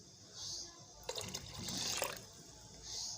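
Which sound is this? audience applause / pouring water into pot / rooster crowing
pouring water into pot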